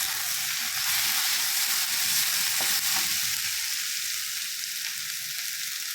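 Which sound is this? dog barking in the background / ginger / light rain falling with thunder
ginger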